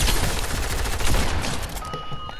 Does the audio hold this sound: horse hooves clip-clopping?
no